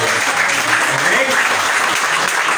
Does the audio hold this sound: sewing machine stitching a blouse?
no